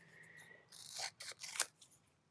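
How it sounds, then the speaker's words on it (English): Scissors cut through self-adhesive craft foam in a few short, crisp snips close to the mic, quiet between cuts with a faint background hum. "I'm just going to cut this into some random square rectangles"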